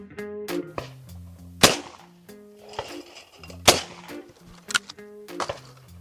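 Beretta 688 over-and-under shotgun fired at clay targets, including a midi and an orange standard: two sharp, loud shots about two seconds apart, each with a short outdoor echo, followed by softer clicks and clacks of handling.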